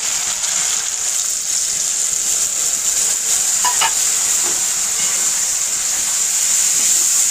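Ground spice paste is stirred into a frying katla fish curry with potatoes, a loud continuous sizzle and hiss with faint scraping of a spoon in the pan, close by with no voices.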